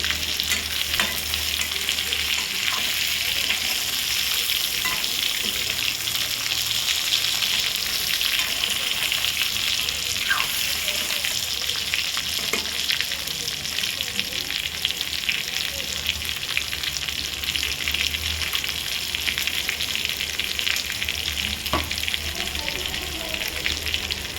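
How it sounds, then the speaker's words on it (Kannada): Brinjal masala frying in a pan with oil, a loud, steady sizzle running throughout, with occasional stirring scrapes and no talk. "3-4 ನಿಮಿಷ ಇದನ್ನ ಚೆನ್ನಾಗಿ ಫ್ರೈ ಮಾಡ್ಕೋಬೇಕು"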